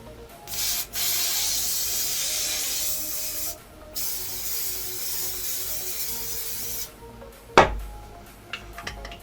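Hissing bursts of an aerosol glue spray can, several long sprays close by separated by short pauses, followed by a clunk and light handling noises.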